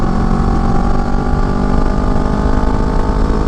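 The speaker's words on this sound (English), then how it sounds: "I just go up a gear and, you know, it's just back to that kind of lower rumble" A Honda Rebel motorcycle fitted with a Shorty GP exhaust gives a loud, close, deep rumble at a steady pace in a higher gear, with no break in the engine note.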